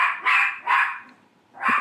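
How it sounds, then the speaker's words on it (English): A dog barks three times at close range when someone arrives at a house, with loud, sharp barks separated by brief pauses. "You got a dog, huh?"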